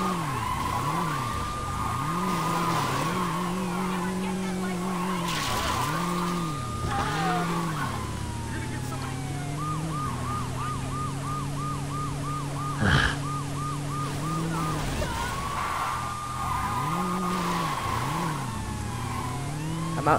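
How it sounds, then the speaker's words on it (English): Siren wailing in Saints Row 2 gameplay, rising and falling repeatedly over a steady engine drone, with a faster yelp pattern midway and a sharp impact near the end. "I'm actually doing good in driving this car."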